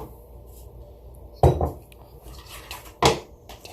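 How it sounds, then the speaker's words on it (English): Fish pieces get dumped into a container of breading, giving two distinct hard clunks spaced about a second and a half apart against a quiet background, each a short knock on the container. "I just dump my fish right into the breading"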